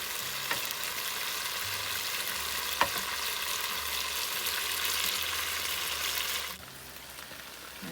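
Pointed gourds stuffed with mixed Jamuna river fish frying and roasting in a pan, a dense continuous sizzle with an isolated pop, dropping quieter near the end.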